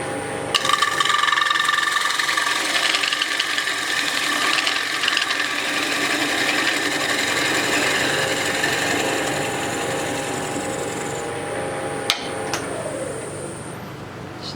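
A wood lathe face-turning a bowl, the tool scraping and shaving the spinning blank in a steady, continuous whir with a sharp tick near the end.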